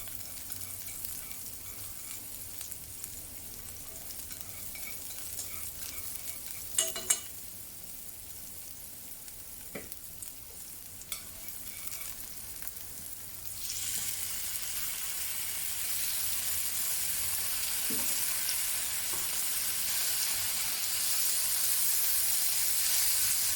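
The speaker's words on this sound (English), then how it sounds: "So now we can go straight on to stir fry the tomatoes" Tomatoes stir-fried in oil with sautéed scallion whites for Chinese tomato eggs: a quiet, low sizzle with a few spatula clacks, then the hiss swells sharply and stays loud and steady.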